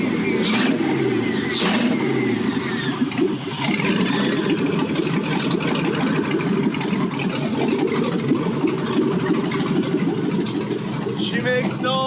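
A modified truck's 5.3 LM7 V8 engine, run without coolant, roars steadily and close by, its low rumble holding at a high pitch with rough revving throughout, and faint voices mixed in.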